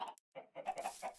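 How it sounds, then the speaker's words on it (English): Minecraft chickens cluck in a quick run of soft, choppy clucks with a short pause near the start, heard alone at low volume. "Got some chickens"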